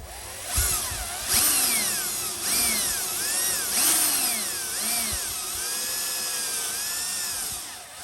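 A power drill bores screw holes for mounting a rim cylinder lock, with repeated whining bursts that rise and fall in pitch as the bit starts and stops, loud and close with no talk.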